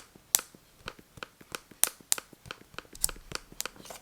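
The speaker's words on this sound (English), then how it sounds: "as for the touchpad, it still has the clicking sound as well" Sharp clicks from a laptop touchpad being pressed in different spots, a quick irregular series of close, crisp taps with a few louder presses, no talking.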